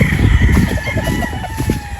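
A rooster crows loudly nearby, a long drawn-out call over steady background noise.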